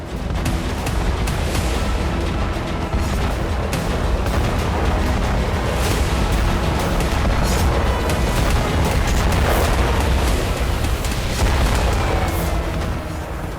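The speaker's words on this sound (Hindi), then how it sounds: "यूक्रेन के ड्रोन से बड़े धमाके" Big explosions from Ukrainian drone strikes on Russian targets rumble in a loud, sustained barrage, heavy booms and sharp cracks overlapping continuously with deep low rumbling throughout.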